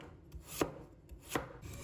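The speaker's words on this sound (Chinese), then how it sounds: "先把它切成两半，然后再改刀切片。" Two crisp knife chops through potato onto a cutting board, evenly spaced and close, with quiet room tone between them.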